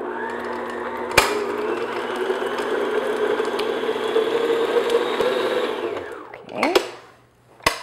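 An electric mixer softens butter for ginger cookies, a steady whirring motor drone that runs for about six seconds, then cuts off and winds down; one brief spoken word follows near the end.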